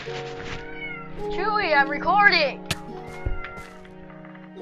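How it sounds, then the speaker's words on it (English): A pet cat meows insistently in a long, wavering call close by in a room while a person speaks briefly over it, followed by a few softer sounds. "My cat's gonna be meowing this whole game"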